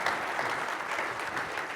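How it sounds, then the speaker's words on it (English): Audience at a tech conference breaking into a dense, continuous round of applause, many hands clapping together loudly throughout. "Round of applause."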